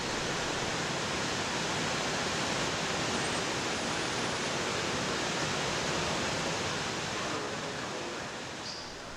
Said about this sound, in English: there you see what happens when the flood channel overflows